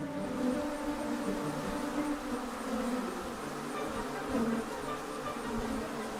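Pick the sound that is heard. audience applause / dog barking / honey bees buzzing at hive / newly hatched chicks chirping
honey bees buzzing at hive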